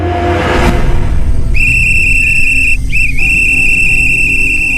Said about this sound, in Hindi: वो अपने टाइम पे आया और सीटी बजाया।